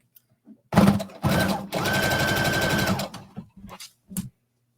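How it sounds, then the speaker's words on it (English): Sewing machine stitching a seam down fabric half an inch from the edge, a close whirring run in two bursts, the second longer and steady, followed by a few short clicks and handling sounds. "just sew all the way down to attach this"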